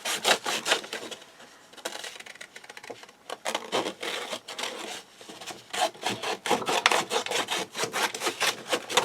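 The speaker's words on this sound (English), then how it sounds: "we're just going to take some scissors" Scissors snip through fabric scraps for a no-sew journal, producing a close series of crisp cutting and rustling strokes in an uneven rhythm with brief pauses between runs of cuts.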